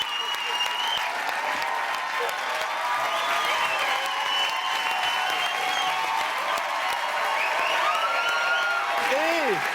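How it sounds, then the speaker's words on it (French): A studio audience claps for three improvisers at an improv show: steady, dense applause with scattered cheers and whoops rising over it, loud and continuous for the whole stretch, while a voice speaks faintly beneath. "on applaudit nos 3 improvisateurs de la soirée"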